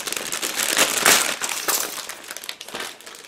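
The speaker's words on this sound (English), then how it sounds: "I think it's easier just to tear the plastic bag" Crinkly plastic rustling and tearing as a plastic bag of scale model kit parts is ripped open, loud and close, peaking in a sharp rip about a third of the way through.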